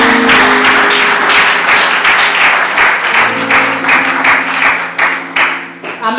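Church congregation applauding, a dense, steady wash of clapping that carries loudly throughout, with sustained music or organ tones underneath and a brief dip near the end.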